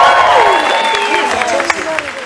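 An outdoor concert audience at the MN Zoo Amphitheater claps and cheers in a brief, fairly close burst of applause, with a voice speaking over it.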